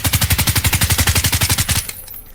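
Rapid automatic gunfire in a shooter video game rattles out in a loud, even burst of about twenty shots, then cuts off into a brief fading tail.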